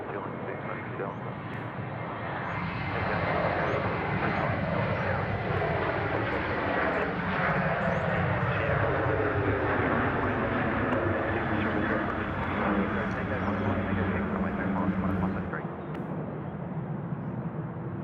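A passenger airplane landing at Sydney Airport, a loud broad jet roar that holds steady throughout, close by, with a voice talking over it.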